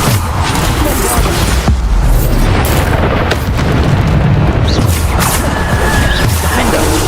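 Repeated Bombarda spell explosions in the video game Hogwarts Legacy, loud booming blasts packed into a continuous roar of combat noise, with speech present.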